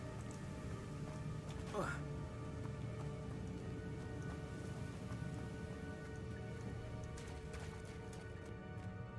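Steady rain and hail patter in a video game, a dense, even hiss of drops with faint game noises running through it, continuous and moderately loud.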